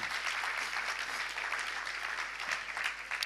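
Audience at a German church conference applauding a translator, steady dense clapping that fills the whole stretch at moderate level with no talk over it.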